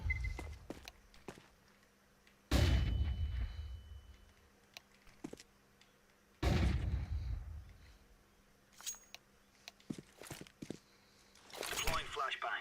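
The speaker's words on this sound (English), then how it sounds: "Deploying flashbang." Two loud bursts from flashbangs in a video game stand out over quieter clicks, footsteps and small clinks, each blast followed by a slowly fading wash of noise.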